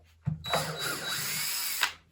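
A power drill backs screws out of a wooden subwoofer box, one continuous whirring run of about a second and a half with a sharp start and a brief rise at the end, loud and close with no talk.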